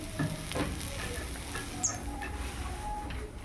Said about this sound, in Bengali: করলা আলু পেঁয়াজ এটা ভাজা হচ্ছে